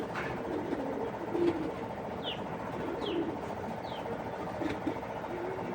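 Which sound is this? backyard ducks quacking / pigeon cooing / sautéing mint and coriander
pigeon cooing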